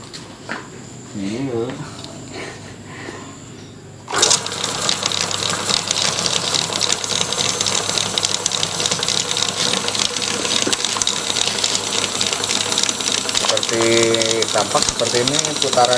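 An SC22 power sprayer driven by a 1 hp electric motor starts up after a few quiet seconds, then runs at a loud, steady, even drone through to the end.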